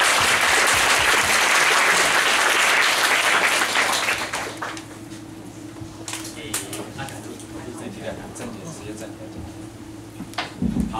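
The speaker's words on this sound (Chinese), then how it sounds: "所以我们大家先给他们热烈掌声哦，先掌声。" An audience at a Christmas Day gathering breaks into warm, loud applause that fills the room for about four seconds, then fades to scattered claps and room noise as a speaker carries on.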